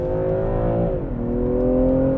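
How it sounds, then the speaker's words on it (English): 2020 BMW M340i all-wheel-drive sedan exhausting under acceleration, a steady droning engine note that dips briefly in pitch as it shifts, then resumes, heard from inside the car with no talk. "Oh, I felt the exhaust there."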